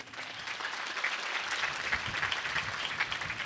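A church congregation at Mass claps for the episcopal vicar, Father Alphonse, in steady, moderately distant applause that lasts a few seconds.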